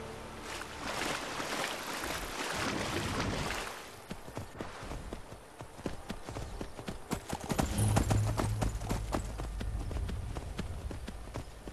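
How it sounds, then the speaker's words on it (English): A horse's hooves clip-clop in the Skyrim video game, first a busy, splashy run through water, then sharper separate hoof strikes at a walking pace, fairly close with faint background noise. "Come on, horse, keep your head above water"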